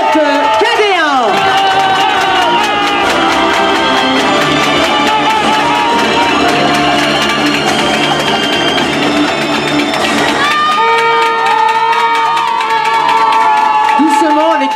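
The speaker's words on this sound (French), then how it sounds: "un tonnerre d'applaudissements pour la remise des prix concours complet" Audience at an equestrian eventing prize ceremony applauding and cheering, a loud continuous crowd roar with whoops and shouts, while music plays and an announcer speaks over it.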